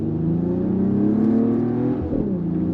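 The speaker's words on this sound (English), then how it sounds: "I find that the sound that gets pumped into the cabin in a Mercedes AMG, it just sounds a little bit more real than like a BMW." A 2023 Mercedes-AMG GLE 53 SUV accelerates, its engine heard from inside the cabin as a rising, steady drone that climbs in pitch, dips briefly at a gear change, then pulls again.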